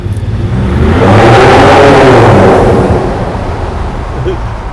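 A Ford Raptor pickup engine revs up and holds, its deep stock exhaust rumble swelling loud and close before easing back down to a steady idle.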